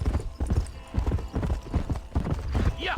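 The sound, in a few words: horse galloping in video game Red Dead Redemption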